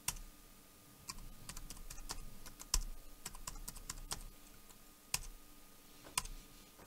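Typing a password on a computer keyboard during a Raspberry Pi 3 assistant setup: close, quiet, irregular key clicks in short bursts with gaps, no talking.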